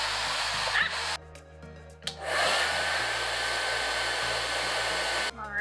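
A hair dryer or heat gun blows steadily on two pieces of 3M adhesive tape for a motovlog helmet mount, a loud continuous whooshing hum that briefly cuts and restarts, with no talking.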